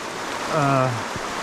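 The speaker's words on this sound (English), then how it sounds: "in the middle of a thunderstorm" Rain falls on a mountain trout creek in western North Carolina during a thunderstorm, a steady soft hiss of drops on water, briefly overlaid by a short falling voice-like tone.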